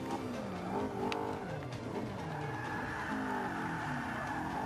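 A Honda S2000 race car in Forza 5 on the Top Gear circuit howls as it accelerates, the engine pitch sweeping up and dropping through gear changes, loud and continuous with faint tire noise.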